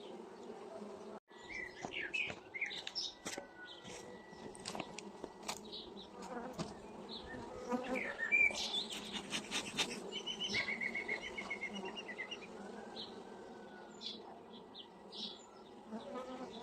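Honeybees swarm and buzz steadily around hive frames during queen rearing, with queen cells being built. The dense, close hum continues throughout, with faint bird chirps in the background.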